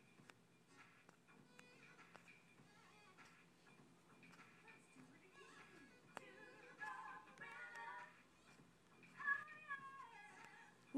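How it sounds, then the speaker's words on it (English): Several cats in a Roblox video game give repeated, overlapping meows, faint at first and growing busier and louder toward the end, over a quiet ticking background. "Cats!"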